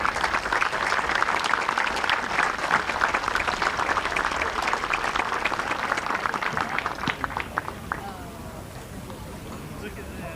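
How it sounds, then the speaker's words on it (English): A crowd at a college baseball game between Tennessee Wesleyan and Milligan applauds in loud, rapid clapping that thins out toward the end, with voices heard underneath. "Please join me in a round of applause for Bobby and Wendy Goodfriend."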